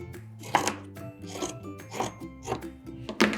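Scissors cut through sweater fabric along a chalk line in several crisp, rasping snips about half a second apart, close by and with no talking.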